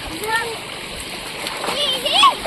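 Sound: splashing in water

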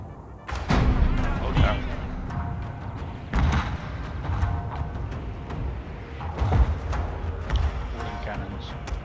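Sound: cannon fire in video game

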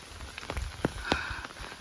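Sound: rain falling in a rice field

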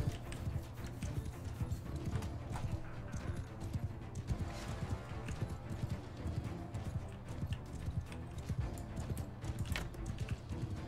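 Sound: horses galloping in battle in video game Mount & Blade II: Bannerlord

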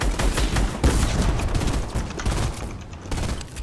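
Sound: gunfire in a video game

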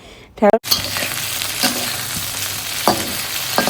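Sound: frying okra and potatoes in a pan

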